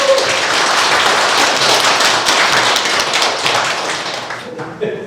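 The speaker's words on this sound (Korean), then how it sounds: "여러분 뜨거운 박수로 환영해 주시기 바랍니다" A seminar audience at a healing camp applauds warmly to welcome a company chairman, steady dense clapping filling the room for about five seconds before fading slightly at the end.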